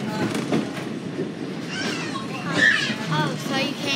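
Wilmington Western Railroad train rolling along on an open-air ride, with faint rumbling and clatter beneath close conversation and a voice throughout.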